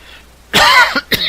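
One close, loud cough followed by two short throat-clearing rasps, alone and abrupt after a quiet start.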